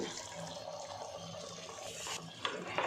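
Water splashes and trickles steadily into a mixer jar, close by, with a couple of small knocks near the end.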